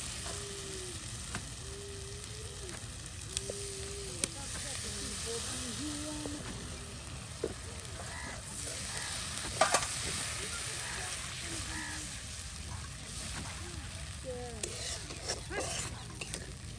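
Ground and crushed spices sizzle steadily in hot oil for an egg dal cooked outdoors in a village, a constant frying hiss with occasional clinks of stirring under intermittent voices.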